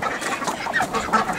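A group of ducks calling in a backyard pen, a steady run of overlapping quacks and honks close by, with no talking.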